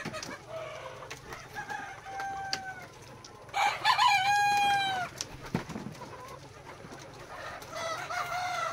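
Local Sonali chickens on a poultry farm: a rooster crows loudly mid-clip amid scattered clucks and calls from other birds, over a low barnyard hum with no talking.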